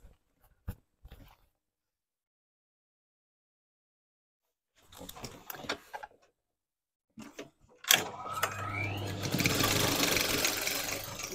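A sewing machine stitches the outside leg seams of a pair of jeans, starting after some quiet handling noises and then running steadily and close with a continuous whirring hum.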